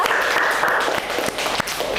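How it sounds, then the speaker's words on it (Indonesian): A class of students in a yoga practice session applauds in a brief, fairly close burst of clapping with a few sharper individual claps standing out. "terima kasih buat kalian semua, tepuk tangan karena kalian sudah luar biasa"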